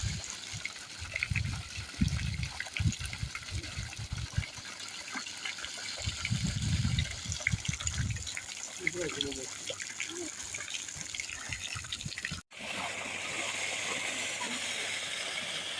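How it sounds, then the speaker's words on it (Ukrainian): Water pumped from a newly drilled borehole well, a steady rushing gush that runs throughout with splashing and trickling, while people talk nearby over the flow before it briefly cuts out and resumes. "Уже водичка біжить."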